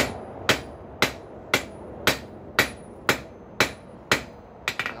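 A hot rail spike is hammered on an anvil while being forged into a bottle opener. Ten sharp, loud, ringing blows land at a steady rhythm, about two per second, with a quick double strike at the end.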